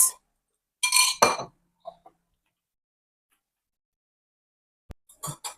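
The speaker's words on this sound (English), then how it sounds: "stir it, stir it, stir it, mix thoroughly" A spoon clinks against a glass while a mixture is stirred thoroughly, a few quick bright taps in short bursts separated by silence, close and clear.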